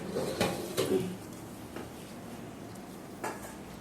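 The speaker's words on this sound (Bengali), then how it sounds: "এর মধ্যে বেসন বড়াগুলো জলে ভিজিয়ে রেখেছিলাম সেগুলো এরমভাবে ছেঁকে ছেঁকে দিয়ে দেবো" Soaked besan fritters being strained into a pot of potato curry, with a few sharp metal clinks of a utensil against the pot and soft stirring scrapes, faint and intermittent over quiet kitchen background.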